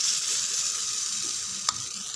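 Bottle gourd kuzhi paniyaram batter frying in oil in a paniyaram pan, giving a steady close hiss and sizzle with one brief sharp clink near the end.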